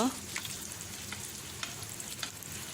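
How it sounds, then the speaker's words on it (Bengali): Hilsa fish roe frying in oil makes a close, continuous crackling sizzle with small spitting pops throughout the short stretch, and nobody speaks. "ডিমটাও ভালো করে ভাজা হবে"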